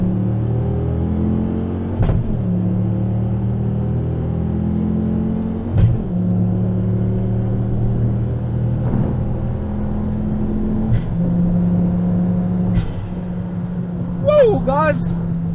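A 2011 Ford Focus ST 225 pulling hard at full throttle in second gear from about 2000 RPM, a steady droning engine note rising slowly in pitch, heard from inside the cabin with a few brief knocks and a short squeal near the end.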